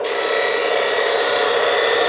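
A woodturning tool is held against a 180-grit CBN grinding wheel on an angled platform, giving a steady, loud, high-pitched grinding hiss with a ringing whine. The sound is unbroken and heard alone.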